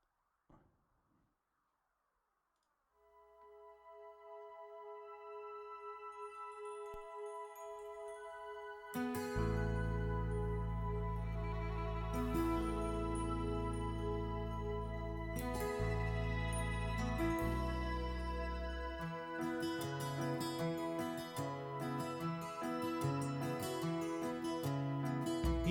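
A song plays back as recorded music, starting quietly with a soft intro of sustained tones, then swelling into full band accompaniment with deep bass and bright, chiming notes, with no talking over it.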